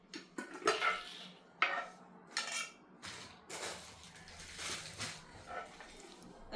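Metal kitchen pots and a pressure cooker are handled, giving scattered clanks and scrapes at close range, with a few loud knocks and some shuffling in between.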